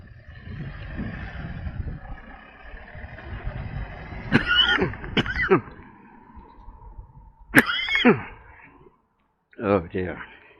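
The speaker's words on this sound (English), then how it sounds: "Cough, cough, cough." Several short, sharp coughs from a man outdoors, coming in separate bursts over quiet background street noise, close and fairly loud.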